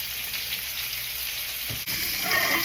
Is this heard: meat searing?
yes